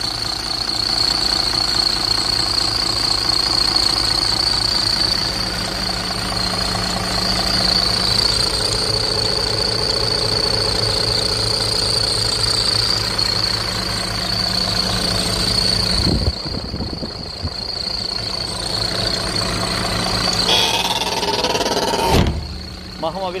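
A Mercedes O 530 G articulated bus diesel engine idles steadily with a low rumble and high whine, then cuts out briefly before noise resumes.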